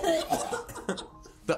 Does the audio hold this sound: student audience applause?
no